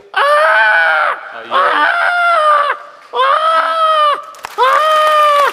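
A person imitates a panicked chicken being caught for slaughter, four loud drawn-out squawks in a row with short breaks between them.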